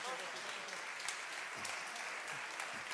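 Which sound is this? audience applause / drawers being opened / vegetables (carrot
audience applause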